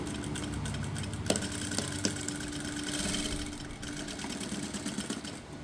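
Sewing machine running steadily while stitching the lining of a ready-made churidar, a continuous mechanical whir with a few sharp clicks, moderately close and with no talking.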